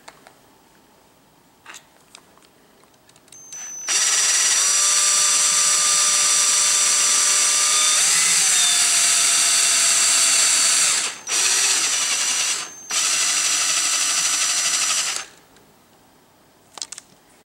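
A power drill bores into a chair leg to enlarge a hole for felt pads, a loud steady whine for several seconds, briefly stopping once and then running on before cutting off; no talk.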